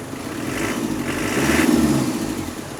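A turbocharged 1988 Land Rover Santana crawler engine, already warm, fires up and revs, a close steady mid-pitched drone that swells briefly and settles back toward idle.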